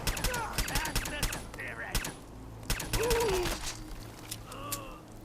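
Enemy gunfire in Fallout 4 in Far Harbor survival mode, a scattered series of sharp shots at uneven intervals, some clustered, mixed with game noises and a voice speaking in between.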